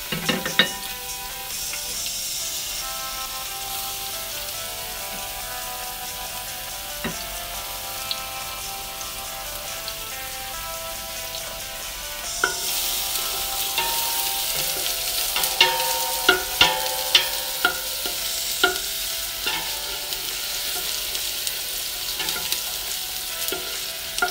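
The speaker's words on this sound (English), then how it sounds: "Then we add the onion and the garlic." Onion and garlic frying in hot cooking oil in a pan for an Arabic meat dish: a steady sizzle that grows louder halfway through, broken by sharp crackles and pops, with no talking.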